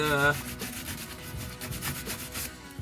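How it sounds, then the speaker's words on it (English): Rhythmic scratchy rubbing of sandpaper on small metal wiring terminals on an old sailboat, cleaning off crud, close and steady, several back-and-forth strokes after a brief tonal sound at the start. "sanding our little terminals to try and get just a little bit of the, crud off of them"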